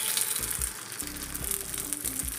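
Carrot kuzhi paniyaram batter hits a hot pan with a steady close sizzle, softer pops and faint clinks over a bright hissing frying wash.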